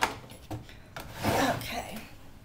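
Wet scraping and rubbing of a big spatula stirring a casserole mixture, a few short strokes building into a louder, longer churn, up close and without speech.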